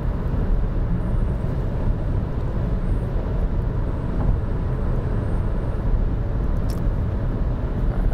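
A 2022 Chevy Bolt cruises at highway speed near 80 mph, giving a steady, loud, broadband road and wind roar that holds constant throughout with no talk.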